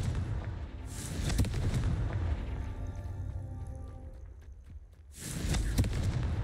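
A Confringo spell explosion in the video game Hogwarts Legacy, heavy low booming bursts with rumbling debris, a sustained loud blast at the start, a quieter ringing tail, then another strong boom near the end.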